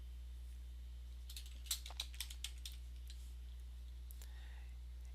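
Computer keyboard typing, a quick cluster of about six soft key clicks in the middle, then a few fainter taps, over a steady low hum.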